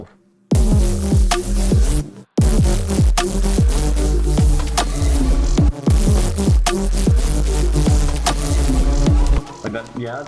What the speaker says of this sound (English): Maybe we can do like high bias distortion.